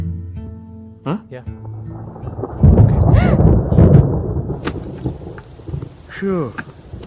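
A deep, loud rumble of thunder rolls through a rainy night scene set in Hyderabad from a Telugu film. It swells for a couple of seconds in the middle, with voices and other scene sounds around it.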